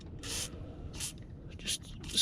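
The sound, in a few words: WD-40 spray into seat belt buckle mechanism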